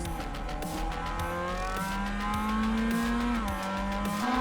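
Race cars in a racing video game at Lime Rock Park roar steadily and loudly, several engines whining and shifting pitch together, with brief tire squeal as they race.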